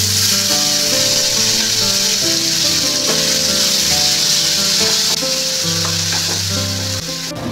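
Ground spice paste frying in a pan with onion and garlic, a loud, steady sizzle with occasional stirring scrapes throughout.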